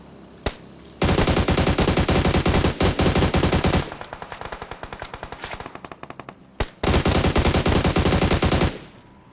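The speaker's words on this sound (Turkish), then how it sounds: "Hala aynı yerden sıkıyor bu." Long bursts of sustained automatic enemy gunfire in PUBG Mobile, loud and rapid, broken by short pauses and a quieter stretch of slower shots in the middle, with no talk.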